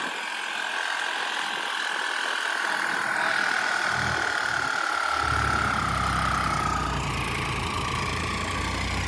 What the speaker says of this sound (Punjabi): ਤੇ ਕਿੰਦਾ ਜੋਰ ਮਾਰੂਗਾ ਟਰੈਕਟਰ